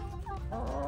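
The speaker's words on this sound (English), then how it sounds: "You guys are chickens." Chickens cluck close by in a short burst of a few quick, rising calls, with no talk over them.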